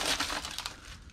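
Broken glass crunches and grinds underfoot on the floor of an abandoned building, a short close burst of crackling that fades as the step finishes.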